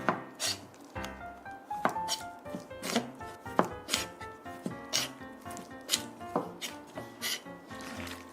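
Knife chopping through stingray meat from a large ray over 50 kg, a quick series of sharp cuts and thuds on a board, with rubbing and scraping between strokes, close and loud with no talking.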